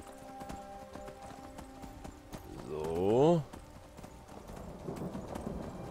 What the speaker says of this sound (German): wir reiten jetzt hier quer rüber